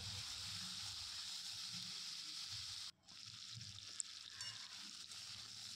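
Sliced potatoes with chilli fry steadily in a hot pan, a dense, even sizzle running throughout, with a brief dip near the middle and a few soft scrapes of stirring.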